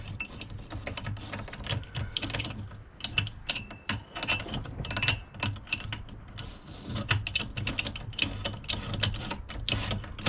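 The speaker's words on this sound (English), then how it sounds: "Use your wrench to finesse it into place." A wrench works a part into place on the front differential of a 2005 Kawasaki Brute Force 650 ATV, giving close, rapid, irregular metallic ratcheting clicks in bursts throughout, with no voices.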